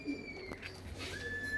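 A Madrasi pigeon with katdar nafte markings, long face and gheri eyes, gives a soft, brief coo nearby, with faint chirps and a steady background hum.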